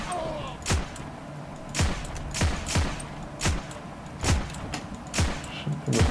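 Semi-automatic rifle shots in the online shooter Heroes & Generals, about nine sharp cracks fired one at a time at an irregular, unhurried pace, loud and close over faint background noise.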